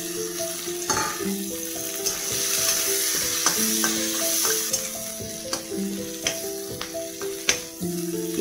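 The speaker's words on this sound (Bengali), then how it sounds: "এবার এতে একটা তেজপাতা, একটু জিরে আর শুকনো লঙ্কা ফোড়ন দিচ্ছি।" Bay leaf, cumin seeds, dried chili and onion sizzle in hot oil, a steady close frying hiss with repeated clinks and scrapes of a stirring spoon against the pan.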